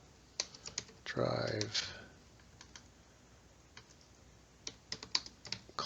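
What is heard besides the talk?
typing on a computer keyboard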